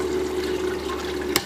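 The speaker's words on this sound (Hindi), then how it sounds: "और अब गाइस मैं आपको पंप चला के दिखाता हूँ" A submerged water pump runs steadily with a constant hum and a washy rush of moving water, close and even throughout, with one brief sharp splash near the end.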